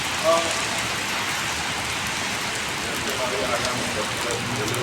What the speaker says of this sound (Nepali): ठुलै पानी परेको छ।